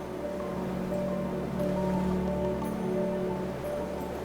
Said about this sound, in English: You can hear the sound of the ocean magnified by this wonderful chamber of this cave.